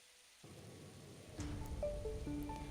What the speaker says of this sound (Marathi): सकाळपासूनच धुवाधार असा पाऊस पडलेला आहे